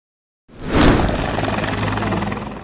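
After a brief silence, a firefighting helicopter's rotor thrum cuts in loud and close, then holds a steady, pulsing drone.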